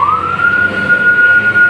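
A fire truck siren wails steadily at a high pitch, loud and close, at a fire in Angeles City, with a low rumble of traffic beneath it.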